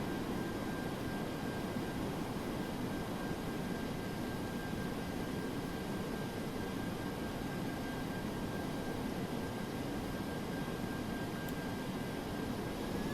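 Steady, droning roar of DC-8-73F jet engines in flight in Flight Simulator X, a constant broadband rumble with a faint high whine, unchanging throughout and unbroken by talk.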